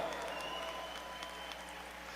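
A church congregation bursts into applause during a sermon, a steady, dense wash of clapping hands filling the hall, even and sustained throughout without a break.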